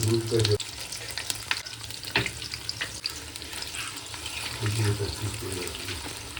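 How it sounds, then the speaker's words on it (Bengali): Paneer pieces drop one by one into hot oil and sizzle loudly at close range, with bursts of frying and faint clinks of utensils, and a voice speaks intermittently in the background. "এবারে একে একে করে তেলে ছেড়ে দেবো"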